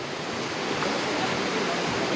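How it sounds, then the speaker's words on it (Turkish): A forest stream in Bali rushes in a dense, steady wash of water noise that stays loud and even throughout, with no voices heard. "Arkada dere."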